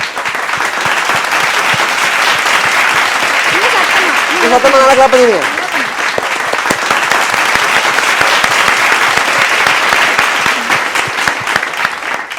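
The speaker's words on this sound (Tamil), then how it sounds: "மோகன் வந்து உங்களுக்காக மேஜிக் பண்ணி காமிச்சார் இல்லையா அவருக்காக ஒரு பெரிய கைத்தட்டல் கொடுத்துடலாமா கிளாப் பண்ணிடுங்க" Children at a magic show give a big round of applause for magician Mohan. The clapping is loud, close and continuous, and a brief raised voice cries out partway through.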